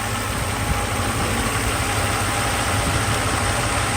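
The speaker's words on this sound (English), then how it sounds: "So this is how the engine runs" A Mercedes S600's engine idles after a throttle and e-gas repair, a loud, steady mechanical hum with constant rumbling vibration and no change in revs, heard up close with no talking.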